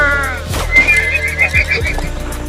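Horses whinny loudly and near, one long shrill neigh followed by shorter whinnying calls with snorts and low thuds underneath, in a tense scene of an alarm being raised.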